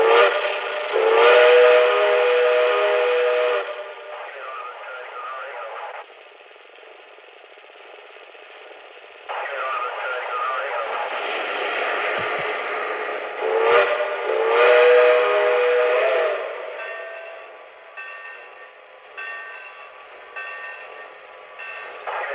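A 20-year-old 3rd Rail Southern Pacific Berkshire model steam locomotive plays its sound effects: steady steam chuffing and hiss with repeated tonal steam-whistle blasts, loud and close, rising and falling in level, with no talk.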